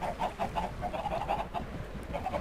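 Spawned chickens in Minecraft cluck repeatedly in short, rapid bursts, close by and fairly soft, forming a busy, overlapping chatter.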